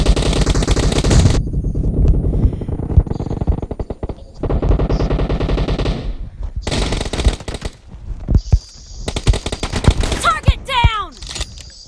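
Rapid automatic gunfire from a video game with an M24 sniper rifle, dense bursts of machine-gun fire in quick succession with brief gaps, loud and close, mixed with game sound effects.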